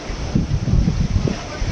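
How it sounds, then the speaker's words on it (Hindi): Strong stormy wind blows in Mumbai, a loud, continuous rumbling gust buffeting close to the microphone throughout. "आंधी तूफान वाली हवा चल रही है"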